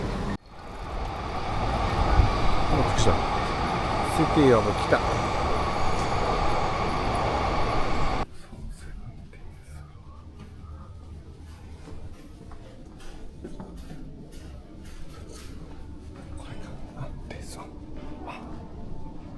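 Trains pass near Oji station in Kita City, Tokyo, with a loud rumbling run for the first eight seconds before dropping to quieter outdoor ambience. A voice speaks briefly.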